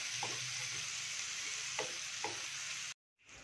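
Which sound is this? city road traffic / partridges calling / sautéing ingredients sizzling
sautéing ingredients sizzling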